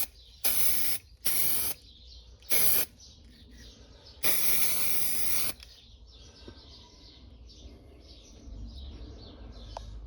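A second coat of spray paint goes onto a 2004 Jeep Grand Cherokee grill outdoors in three short, sharp hissing bursts and then one longer one, while birds chirp faintly in the background.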